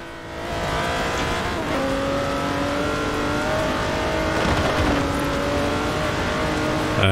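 Car engine in the racing game Forza Horizon 4, a steady loud drone with sustained high revs and shifting tones, running throughout without talk.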